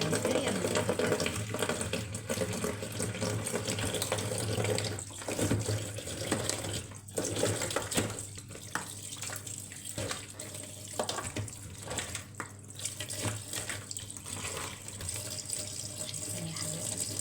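Crabs washed under a running kitchen tap, water splashing steadily and fairly quietly throughout with shifting knocks and handling noises.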